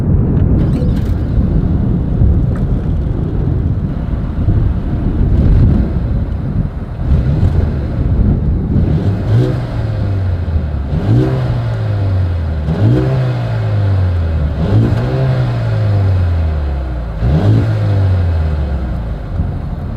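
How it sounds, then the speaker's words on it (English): A 2021 Mercedes-AMG GLA 35 SUV's exhaust is revved outdoors, first a loud rumbling idle with wind noise, then a series of about five sharp revs, each rising and falling away. "As always, here is that exhaust clip."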